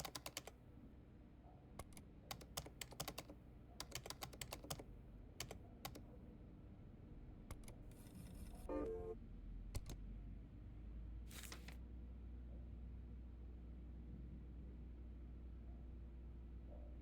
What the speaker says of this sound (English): Am I not typing it right?